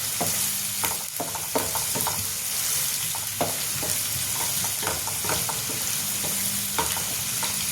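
Onions frying in a pan for Maharashtrian zunka, with a steady crackling sizzle and repeated scraping knocks of a spoon stirring them, close and continuous with no talk.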